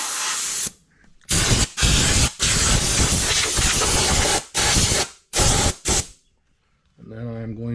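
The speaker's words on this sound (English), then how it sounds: "Put this rag into the carburetor so I can blow all this grass and dirt out of here." Bursts of compressed air blast grass and dirt out of the carburetor on a John Deere X530 lawn tractor with 600 hours, a rag stuffed in the opening; several loud, hissing blasts of uneven length separated by short pauses, followed by a brief low mechanical hum.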